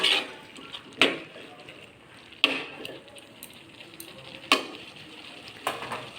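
Bottle gourd curry being stirred in a pan after sugar and garam masala powder go in, with a few distinct scraping clinks of the spoon over a soft sizzle, spaced a second or more apart.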